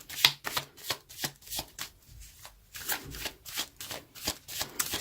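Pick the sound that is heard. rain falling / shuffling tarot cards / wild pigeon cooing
shuffling tarot cards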